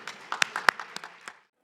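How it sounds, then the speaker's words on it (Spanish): A small audience claps to welcome a panel moderator at a green hydrogen innovation conference. The sparse, uneven clapping is brief and fairly faint, then fades out after a second or so. "recibamos con un gran aplauso a Marcela"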